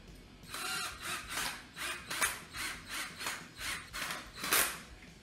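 Screws being driven into the plastic housing of a Ridgid shop vac with a ratcheting tool: about ten evenly spaced, close rasping clicks in a steady rhythm, with no talk.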